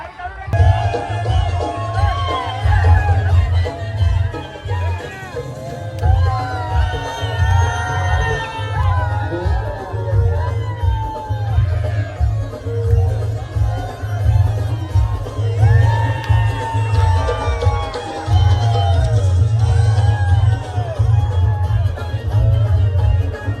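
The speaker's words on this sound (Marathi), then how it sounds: "इथं जोरदार टाळ्या गोविंदा पथकासाठी" A large street crowd at a Dahi Handi festival roars with sustained cheers, whoops and shouts for the Shirgaon Govinda troupe after it builds a seven-tier human pyramid. The sound is loud, continuous and close, with a deep rumbling background throughout.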